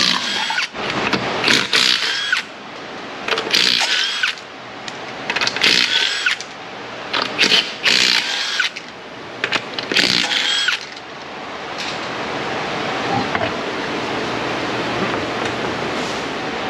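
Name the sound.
power tool removing car wheels during brake job on Mazda 3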